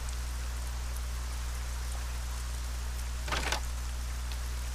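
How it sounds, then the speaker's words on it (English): Rain in the fantasy role-playing game ArcaniA, a soft, even hiss of steady rainfall over a low background hum, with a brief louder splash-like burst partway through and no voices. "Wow, it's dark and rainy."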